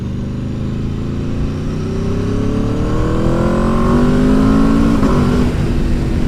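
A 2021 Aprilia RSV4 1100 Factory motorcycle roars loud and close as its engine climbs steadily through the revs, the pitch rising smoothly over about six seconds before a brief dip.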